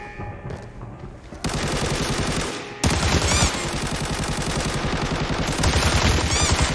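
Automatic gunfire in the video game Arena Breakout, loud, dense bursts that start quietly, jump in level at about 1.5 seconds and again near 3 seconds, then continue as sustained rapid fire.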